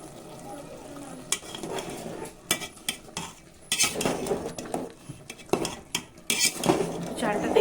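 Lid lifted off a pot of pulao rice cooking on low flame, with clanking lid and metal spoon knocks against the pot and stirring scrapes, close and irregular over a faint sizzle.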